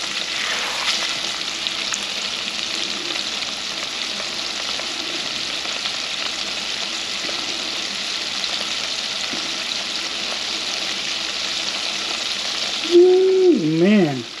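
Freshly caught shrimp deep-fry in hot oil until golden brown, floating as they cook. The sizzle is steady and close and fills the whole stretch, and a short voice breaks in at the very end.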